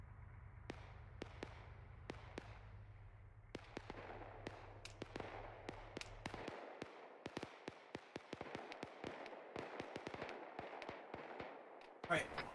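Arma 3 squad training in a town, with scattered rifle shots cracking in irregular bursts, some sharp and close, others fainter and distant, fairly quiet overall with a low hum under the first half.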